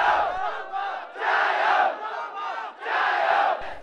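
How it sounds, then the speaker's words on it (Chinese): A crowd of more than a thousand protesters in Shenzhen shouts anti-Japanese slogans in loud, rhythmic chanted bursts, with three surging waves of massed voices separated by brief dips. "一路高唱國歌和叫反日口號"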